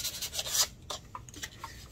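Scuff sanding of a jewelry box surface, a close, raspy rubbing in a few quick strokes that fade into lighter, scattered scrapes, with no talk.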